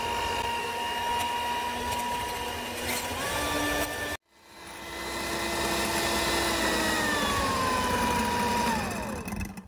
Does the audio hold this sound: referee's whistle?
no